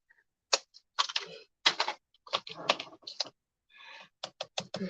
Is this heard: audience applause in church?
no